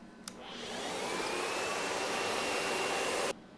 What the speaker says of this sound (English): Will it run a vacuum cleaner?